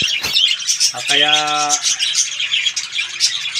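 Pet birds in a cage chirping and squawking in quick, bright bursts throughout, with one longer harmonic call near the middle and a short spoken word at the start.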